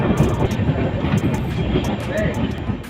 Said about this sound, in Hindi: तो ट्रेन हमारी पहुंच चुकी बारसोई जंक्शन।